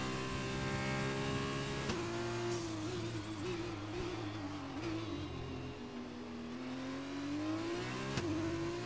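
A Formula 2 race car in a racing video game, its engine revving hard and steady with a rising and falling pitch through gear changes, loud and continuous with no talk over it.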